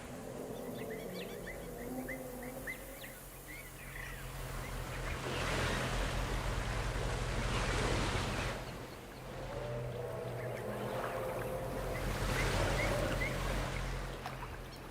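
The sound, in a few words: waterfall in video game Jurassic World Evolution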